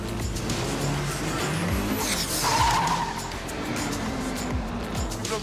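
Race car tires squealing as the brakes lock at the Dijon circuit during a Lamera Cup session, a rising screech over a loud, continuous engine roar.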